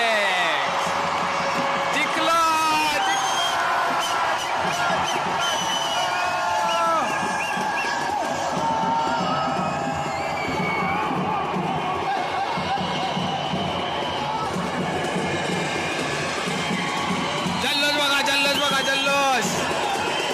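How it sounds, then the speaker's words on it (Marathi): Stadium crowd at a women's premier league cricket match roars and cheers loudly and continuously after a winning shot, with whoops and people talking close by throughout. "जल्लोष."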